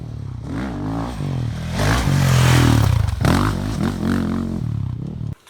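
A 2019 Sherco 450 SCF Factory dirt bike being ridden on a motocross track, the engine revving up and down in close, loud bursts with rising and falling pitch and some clatter.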